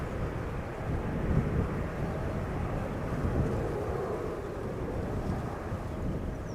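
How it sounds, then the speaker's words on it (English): A 12-year-old KLM Boeing 777-300 departs Schiphol's Polderbaan, a distant, steady broadband jet roar rumbling evenly throughout without any voices. "KLM Flight 635 on its way to Las Vegas. 777-300 the PHBVI, 12 years old,"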